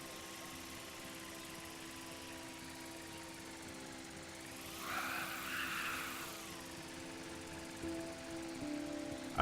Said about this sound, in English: give the drone a whirl around campus.